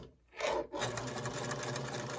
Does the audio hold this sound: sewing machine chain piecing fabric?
yes